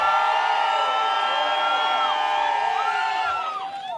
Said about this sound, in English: The audience applauds both producers